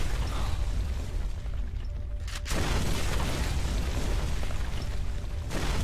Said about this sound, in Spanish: me mata una bomba